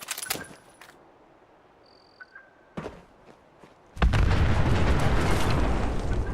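A loud explosion in Fallout 76 erupts suddenly after a stretch of quiet scattered clicks and steps, then holds as a sustained roaring rumble to the end.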